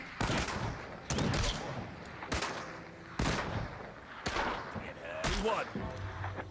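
Gunfire in the World War II video game Partisans 1941, sharp broadband bursts recurring about once a second over a steady background, with voices talking over it.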